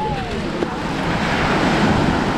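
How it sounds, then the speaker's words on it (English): Ocean surf at Es Canar beach on Ibiza, a steady washing roar of waves close by with wind noise on the microphone and no talk. "Did you hear the sound of the waves?"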